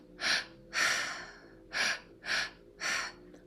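Five deep, rhythmic breaths during a breathwork session, each a loud, close, airy rush of air with short quiet gaps between them.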